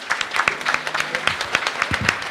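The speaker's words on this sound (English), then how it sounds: "a round of applause for all the candidates." An audience claps for candidates at an election event, brisk applause from a modest crowd that comes through clearly for a couple of seconds.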